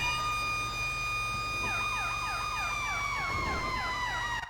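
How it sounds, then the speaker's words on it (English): Two emergency vehicle sirens in the FiveM game sound together, a steady wailing tone joined by a rapid yelping one partway through, loud and close over an engine hum, with no talk. "Yes, you can double siren."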